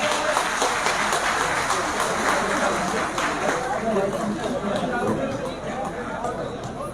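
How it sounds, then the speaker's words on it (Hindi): A crowd at a BSP political rally in Kanpur claps steadily in a broad, sustained wash of applause and hubbub, with talk rising over it. "जोरदार तालियां सभी लोग बजाएंगे"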